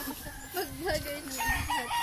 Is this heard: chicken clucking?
yes